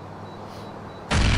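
A loud, sudden explosion in the video game GTA 4 bursts in near the end, a broadband boom after quiet game ambience.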